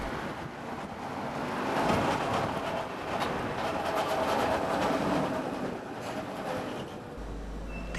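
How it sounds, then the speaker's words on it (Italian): Steady rumble and rattle of articulated Ganz trams rolling past in Budapest, with continuous wheel and rail noise and some wind buffeting, fairly loud throughout. "Altri due tram articolati Ganz"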